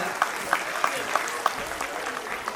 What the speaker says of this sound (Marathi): प्रेक्षकांना विनंती जोरदार टाळ्या होत्या.